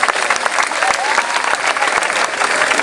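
Outdoor crowd applause at the Miss Languedoc pageant evening in Carnon, dense and lively throughout, with individual sharp claps standing out and faint crowd noise underneath.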